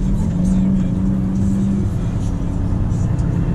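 A Volvo FM 460 truck pulling a trailer drives on a snowy road, its engine giving a loud, steady mid-range hum with a sustained low drone from inside the cab.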